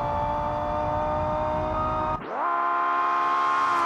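A modded rally car engine in the video game BeamNG holds a steady loud whine, dips briefly, then climbs back up to a sustained scream, with no voices.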